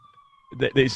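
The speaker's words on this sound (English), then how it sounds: "forgive the sirens in the background. I'm in the city here" A distant police siren in a city wails as a thin, steady tone in the background, and a voice comes in over it.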